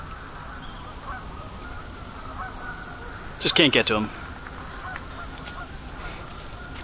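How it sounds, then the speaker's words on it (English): Geese honk briefly in a short burst of cries from a distance at Middle Creek Wildlife Management Area, over a steady background of insects chirping, with a person speaking quietly. "you can probably hear the geese out there once again."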